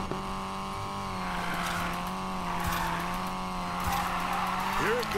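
Rocket Bunny Nissan Silvia Spec-R Aero engine in the Need for Speed Payback video game, a steady droning hum that rises slightly, with tire noise and a brief squeal near the end.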